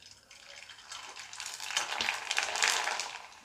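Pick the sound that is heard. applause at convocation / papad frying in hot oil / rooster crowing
papad frying in hot oil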